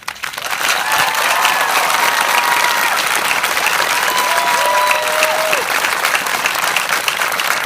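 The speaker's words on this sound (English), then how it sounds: "Let's recognize and applaud two young men who have taken that step." A loud, sustained ovation from a graduation crowd applauding two young men, swelling quickly from a few claps into dense, continuous clapping with scattered whistles and cheers over the top.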